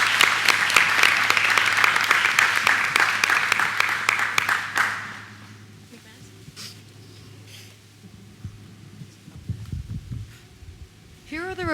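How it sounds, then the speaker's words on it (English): An audience at a school board of education meeting gives a loud round of applause that fades out after about five seconds, leaving a quieter room with a few scattered sounds. "So can we please give a huge round of applause for her?"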